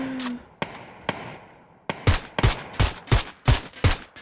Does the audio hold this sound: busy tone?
no